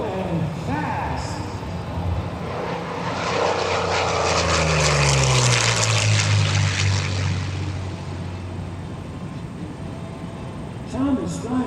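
A P-40 Warhawk propeller fighter makes a low, fast pass at a county airshow, its engine roar swelling loud as it nears and falling in pitch as it passes and recedes, with an announcer talking over it.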